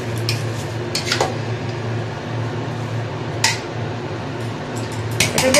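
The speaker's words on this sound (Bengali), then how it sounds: "দিয়ে এবার এটাকে নাড়িয়ে নেবো।" A spoon clinks and scrapes against a pot as pulao with salt and ghee is stirred, giving a few sharp metallic knocks over a steady background hum.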